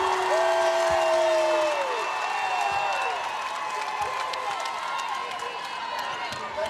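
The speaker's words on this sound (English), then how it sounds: "the crowd's into the game" A crowd cheering for Winnebago at a state championship boys' high school basketball game, loud roaring and whooping in an arena that fades slightly, with commentators talking over it.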